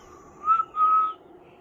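A man imitates a train whistle by blowing out hard, giving two steady whistled blasts, a short one then a longer held one, close and alone.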